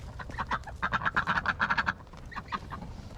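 Ducks on a morning walk give a rapid run of loud, nasal quacks close by, a dense burst in the middle followed by a few scattered calls.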